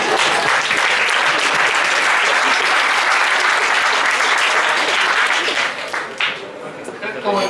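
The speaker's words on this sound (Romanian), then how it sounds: "Hai să o aplaudă!" Applause from a live audience at a stress-themed talk, dense loud clapping that fills the space for several seconds, then thins and fades toward the end as a voice starts talking over it.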